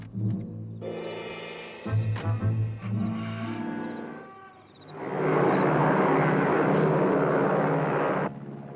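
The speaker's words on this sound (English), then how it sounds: "Very powerful plane." A powerful plane's engines rumble and roar in a 1962 comedy film, building from a lower hum to a loud sustained drone near the end, with no talk over it.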